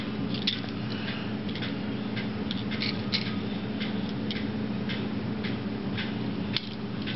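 A small Micropets toy pet runs around, giving off a faint, irregular ticking and clicking over a steady low mechanical hum, close by with no talking.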